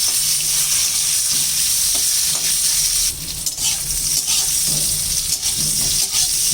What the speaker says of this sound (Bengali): এখন একটু বেগুনগুলি ভাজা করে নিচ্ছি।